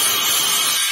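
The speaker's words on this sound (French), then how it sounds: "vous mettez la scie à la place" A saw cuts through wood for a birdhouse, giving a loud, steady rasping buzz that fills the whole brief moment with no pauses.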